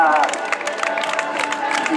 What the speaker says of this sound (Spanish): Un aplauso para este número 28 que entra